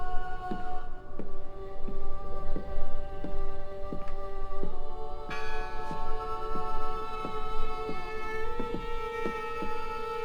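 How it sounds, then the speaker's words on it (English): A church bell tolls in the Draugen game, struck in a steady rhythm of about two strokes per second, ringing clearly with long sustained overtones over a low background hum. "Listen! The bell!"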